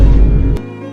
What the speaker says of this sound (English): It's really hot and I got the fan blowing on me.